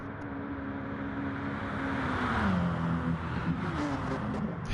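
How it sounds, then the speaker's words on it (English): Racing cars in a GT touring car race run at full speed, their engine drone blending into a continuous roar with a rising and falling pitch as cars pass, moderately loud and somewhat distant. "I do like the sound of all these cars at full tilt"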